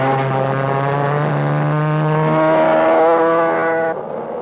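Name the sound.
McCulloch-engined go-karts racing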